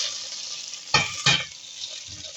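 Melted butter sizzles in a pan for homemade apple pie, a steady bright hiss broken by two quick stirring scrapes near the middle, close up, with no one talking.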